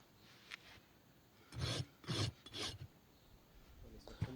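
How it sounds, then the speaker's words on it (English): A hand rasp files a cow's hoof in short, close scraping strokes, three heavy rasping passes in a row after a lighter stroke or two, with quiet gaps between. "Now I'm going to fix it here by using the rasp."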